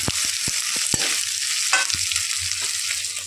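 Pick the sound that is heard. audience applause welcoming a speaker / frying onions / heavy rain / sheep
frying onions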